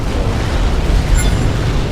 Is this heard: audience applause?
no